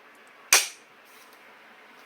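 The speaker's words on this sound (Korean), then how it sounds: "전원은 이 앰프의 맨 오른쪽에 보시면 스위치가 있는데요" The power switch on a Marantz 18 receiver is flipped on: a single sharp, close click against a quiet background hiss, with a faint tick at the very end.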